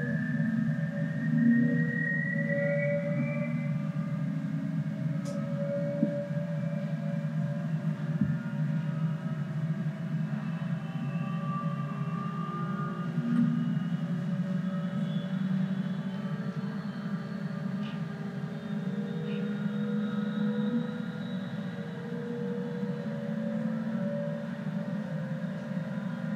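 An in-wheel electric vehicle motor developed by BMW engineers hums with a steady low drone and faint shifting tonal whines, quiet and continuous throughout.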